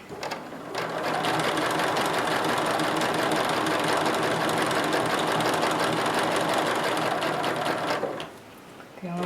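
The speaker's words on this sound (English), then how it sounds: "The only thing I could do is sew faster" A sewing machine stitches quilt blocks in a steady, fast, continuous whir that runs close and loud for about eight seconds, then stops.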